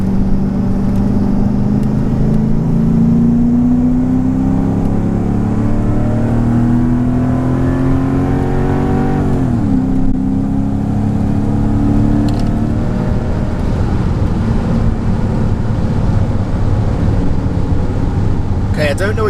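A Mercedes-Benz E55 AMG W210 with a Kleemann 55-K2 supercharger accelerates in manual mode while suffering a misfire, its engine note climbing steadily through a gear, dipping at a shift, then rising again with a whining drone heard from inside the cabin.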